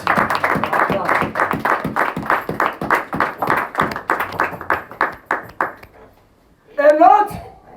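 A church congregation claps in a steady rhythm, about a dozen and a half even beats, strong and close, fading out before a short burst of voice near the end.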